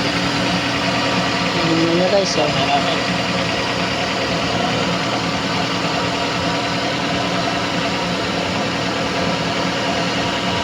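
A car's engine idles steadily after being started, a loud continuous rumble with broadband noise throughout, while someone speaks briefly near the beginning.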